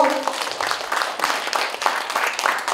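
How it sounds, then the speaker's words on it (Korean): Brief clapping from the audience at a Korean art awards ceremony, a dense moderate patter lasting a few seconds with no voices over it. "네, 여러분 다시 한번 큰박수 맞아주시죠."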